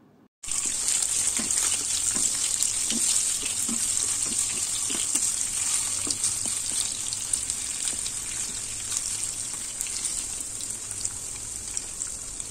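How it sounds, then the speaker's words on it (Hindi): Paneer pieces fry in hot oil until light golden brown, giving a steady, close, bright sizzling hiss that starts abruptly and holds evenly throughout, with faint crackles and no voices. "पनीर को लाइट गोल्डन ब्राउन कलर आने तक फ्राई कर लेंगे।"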